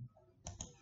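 A couple of computer keyboard keys pressed while working in circuit simulation software, two quick close clicks after a short stretch of near quiet.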